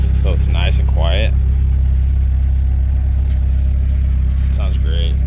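A Toyota Corolla AE71 converted to AE86 GTS spec, with a header, T3 test pipe and HKS Sport exhaust, idles with a steady, quiet low rumble throughout while voices speak briefly over it.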